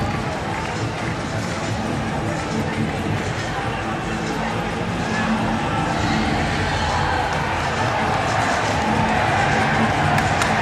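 Crowd at a 2010 Commonwealth Games men's hockey semifinal between India and England, a steady dense roar of cheering and babble filling the whole stretch, loud and unbroken, swelling slightly toward the end.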